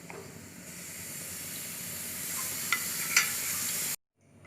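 Cumin powder and nigella seeds sizzle steadily in hot oil, a broad continuous hiss with a couple of small pops, cutting off abruptly near the end.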